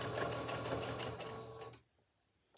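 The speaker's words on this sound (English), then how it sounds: "just try to start a few stitches and then go back just to lock it, and now you can start sewing" Close, busy whirring of a sewing machine stitching lace onto a stretched sock, running steadily for about a second and a half before stopping abruptly into near silence.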